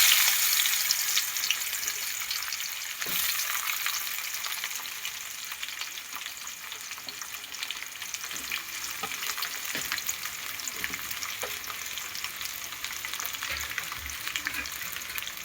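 Spiny gourd (kantola) fries with garlic cloves in hot oil, a quiet, continuous sizzle with occasional soft clicks and stirring sounds, no speech over it.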